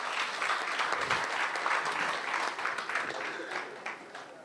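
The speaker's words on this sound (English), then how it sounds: "Give them a round of applause, please." Applause from delegates at a football association congress session, a steady, broad wash of many hands clapping together that holds level and then eases slightly, heard alone.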